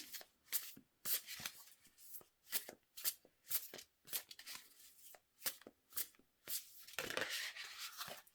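Tarot cards are shuffled and drawn from a deck, giving a series of short papery slaps and riffles in an uneven rhythm, close and fairly quiet, with a longer rustling shuffle near the end and no talk.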